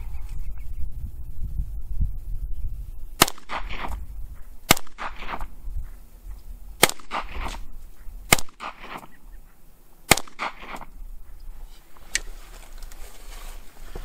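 A 2018 Ruger PC Carbine fires about six sharp, separate shots at a slow, uneven pace, roughly one every second or two. Each report is loud and cracking and dies away into a quiet outdoor background.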